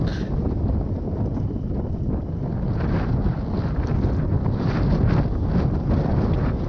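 Wind gusts buffet the microphone on a morning walk outdoors near a hunting lodge. The roar is steady and rumbling and swells and fades in a few stronger bursts.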